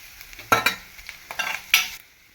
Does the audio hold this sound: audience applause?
no